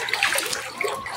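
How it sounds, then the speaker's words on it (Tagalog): Floodwater rushes steadily through a canal beside a flooded home, a loud close churning wash with continuous splashing and no voices. "Tingnan nyo naman yung tubig dito sa kanal"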